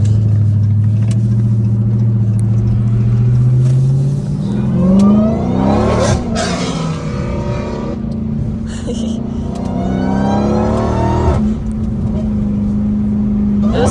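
Dodge Hellcat Redeye engine revving hard at a car meet, its supercharger whine climbing and falling through several pulls over a deep rumble, loud and close, with people talking over it.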